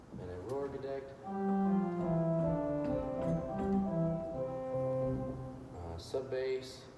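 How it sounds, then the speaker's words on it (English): Church pipe organ in a sanctuary in Brevard, NC, sounding gemshorn and rohr gedeckt stops. It plays a steady, moderately loud passage of sustained flute-like chords that change pitch over several seconds, then softer notes near the end. "Gamshorn and a roar gedeck."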